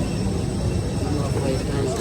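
Steady, dense droning roar of an airplane cabin, constant and loud throughout with no breaks.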